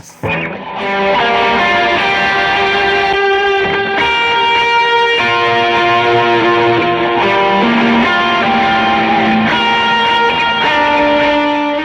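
Sustained electric guitar chords with heavy overdrive from a JHS NOTADÜMBLË pedal, washing into long delay repeats and reverb tails, loud and continuous with no voices.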